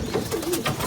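Soft, continuous cooing from pigeons in a racing-pigeon loft, one of a pair of hens that have both laid eggs; the low, rolling coos sit close and steady under faint background noise.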